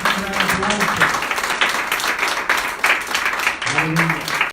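Church congregation clapping in praise during a service, a thick wash of applause lasting several seconds with voices calling out over it at the start and near the end.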